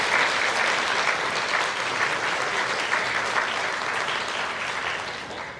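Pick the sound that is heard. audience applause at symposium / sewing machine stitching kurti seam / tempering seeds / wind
audience applause at symposium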